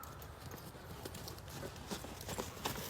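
A horse walks along the arena rail, hooves clip-clopping in a steady, fairly quiet rhythm over a continuous background hiss, with no talking.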